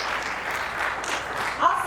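A live audience at the AFMX 2024 center stage claps for the event sponsors, a brief, steady burst of applause at moderate volume that slightly swells near the end.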